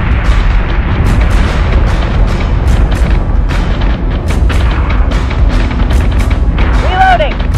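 Ship battle in the space combat game Battlestar Galactica Deadlock: dense, continuous booming gunfire and explosions roll in loud, overlapping bursts, with a brief rising electronic warble near the end.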